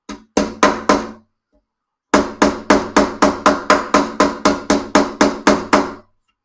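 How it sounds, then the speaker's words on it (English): Metal hammer taps a new fret into the fingerboard of a vintage classical guitar: three quick strikes, a short pause, then a steady run of about fifteen crisp, evenly spaced close-up taps. "let's make sure we get a good hammer on that end, because this end still looks like it's slightly sticking out"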